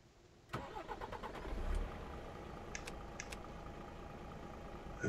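A truck in Euro Truck Simulator 2 cranks and fires up with a sharp start, then settles into a steady, rumbling idle before the engine swells again at the end as it pulls away.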